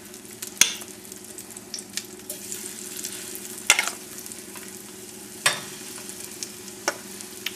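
Corn fritters fry in moderately hot oil in a pan, with a steady close sizzle broken by occasional sharp clinks and scrapes of a utensil against the pan.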